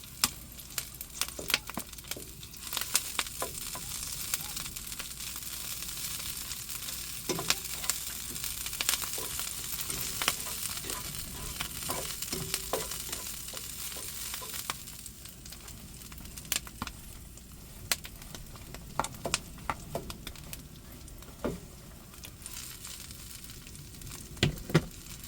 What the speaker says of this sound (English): I'm going to start getting all of this kale in. I'll probably have to give it a couple of goes. So we'll cook a bit off